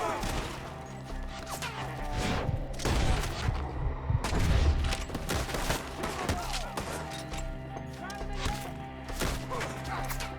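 Gunfire in the video game Red Dead Redemption 2 during a shootout, with dense, loud bursts of shots and impacts crackling continuously, mixed with shouted in-game voices.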